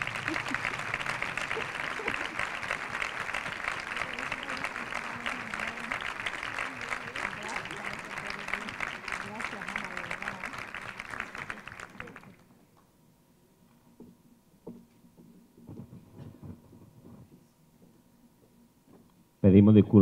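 Audience applause at a book presentation, a dense sustained clapping for about twelve seconds that stops abruptly, leaving faint room noise and a brief loud burst at the end.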